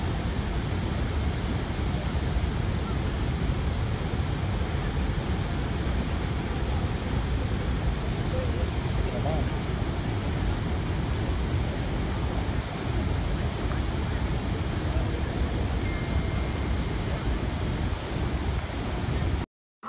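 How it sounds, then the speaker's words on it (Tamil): Water at the Cave of the Winds beside Niagara Falls roars without a break, a loud, dense wash of rushing spray with wind buffeting the microphone for the whole stretch. "இவ்வளோ ஃபோர்ஸாக தான் தண்ணி இருந்தது."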